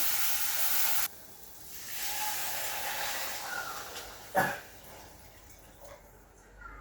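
Water poured into a pan of hot fried masala gives a loud broad hiss at first, dropping away abruptly and then lingering as a softer sizzle with a brief sharp splash partway through.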